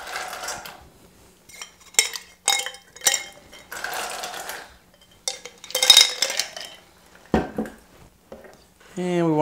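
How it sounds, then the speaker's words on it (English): A Heart of Oaxaca cocktail is stirred with ice in a mixing glass, giving bursts of close metallic clinking and rattling ice separated by short pauses. "we'll be stirring this cocktail"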